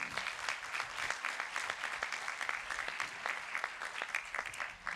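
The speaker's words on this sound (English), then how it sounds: "let's just give a warm round of applause for all of those thank yous" Moderate applause from a university commencement audience, a steady patter of many hands clapping at middling distance, continuous throughout with no speech over it.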